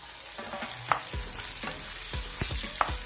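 Tamarind fries in a hot pan for a tamarind chutney, giving a soft, steady sizzle broken by a few utensil knocks and scrapes against the pan, close up with no talking.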